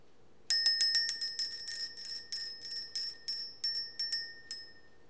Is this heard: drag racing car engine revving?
no